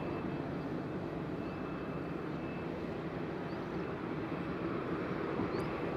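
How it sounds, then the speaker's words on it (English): Ryanair airliner on approach landing at Madeira airport, a distant, steady low jet roar holding level and faint throughout, with no voices. "Ryanair is clear to land."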